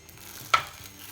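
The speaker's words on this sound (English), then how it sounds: "You can hear the sizzle." A faint, steady sizzle of flatbread frying on a hot griddle, broken once by a brief clatter midway.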